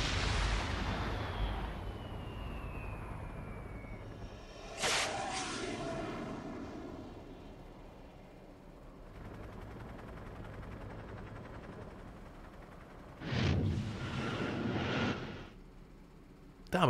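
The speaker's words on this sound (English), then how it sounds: "Damn, that's a big explosion for a fucking handheld rocket launcher." A loud explosion from a handheld rocket launcher in the video game Metal Gear Solid 3: a long rumbling roar with sharp blasts and crackling debris bursts near the middle and end, no talk.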